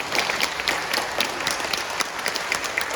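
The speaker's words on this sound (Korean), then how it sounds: "박수." Lecture audience applauding at a talk on Korean martyrs, a steady wash of many hands clapping throughout, fairly close and even, with no voices over it.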